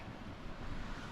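Sea waves froth around old sea stacks off a windy, storm-lashed Pembroke cliff coast, a steady broadband wash of surf and wind buffeting with no clear breaks.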